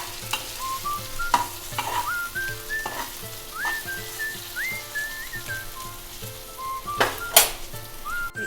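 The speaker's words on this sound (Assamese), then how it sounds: "ৰোষ্টেড গুড়িখিনি এতিয়া মই অকণমান ছটিয়াই পেলাই আকৌ এবাৰ লৰাই দিম" Roasted spice powder stirred into raw mango chutney in a pan: repeated spoon scrapes and knocks over a soft sizzle, while someone whistles a tune throughout.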